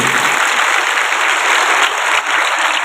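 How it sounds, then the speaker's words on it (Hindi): A rally crowd breaks into loud, dense applause that fills the space as a continuous roar of many hands clapping. "उसके लिए जोरदार तालियां दीदी लोग के लिए"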